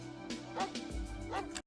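A dog gives a few short yips and barks, irregular and fairly close, over a low background with brief other sounds.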